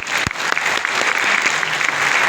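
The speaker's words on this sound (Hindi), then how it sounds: "मैं चाहूंगा कि संजीव सर के लिए एक जोरदार ताली हो जाए" Audience applause at an indoor gathering, loud sustained clapping from a crowd, close and continuous for the whole stretch.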